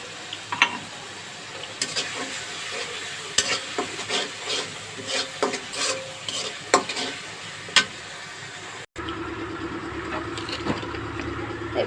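Prawns with garlic paste and Kashmiri chilli powder sautéing in a pan for a shapla (water lily stem) dish, with repeated scraping stir strokes over a steady sizzle, close and moderately loud, the frying continuing more evenly after a brief break.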